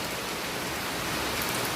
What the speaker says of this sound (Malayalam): അടിപൊളി സൂപ്പർ മഴ.